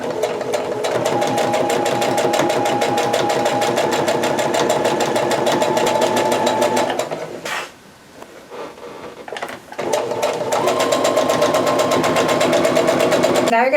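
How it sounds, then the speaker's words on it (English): A sewing machine stitches along a fabric face mask seam, its steady rapid whirring running close and loud for about seven seconds, pausing briefly, then resuming in a continuous run. "Now I'm just going to stitch along these lines to secure them down."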